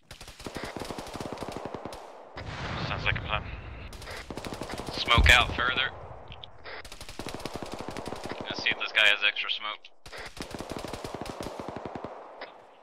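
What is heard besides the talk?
gunfire in the video game ArmA 3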